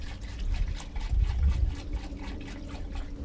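Liquid pours steadily into a jug, a continuous trickling, splashing fill that holds at close range for a few seconds with no talk over it.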